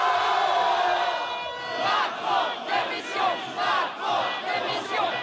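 A crowd of yellow vest protesters at a rally in Bourges shouting together in rhythmic, repeated bursts, loud and close, with a sustained roar at the start.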